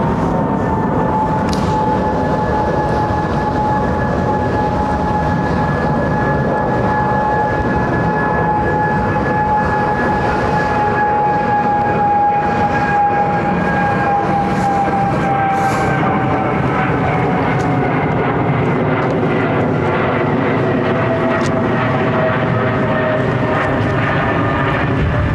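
A clipped-wing Boeing 777 departs overhead at London Heathrow, a loud sustained jet roar with a whining engine tone that slowly drops in pitch as the aircraft passes, filling the whole stretch without talk.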